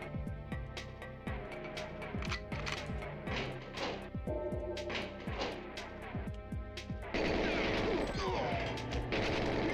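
Rapid gunfire from the GoldenEye video game on Xbox, with dense bursts of shots and crashing impacts cracking out in quick succession, loud and close, over a busy game soundtrack.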